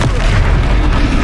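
Confringo, an explosive spell in Hogwarts Legacy, goes off as a brief, loud, close boom with a heavy low rumble.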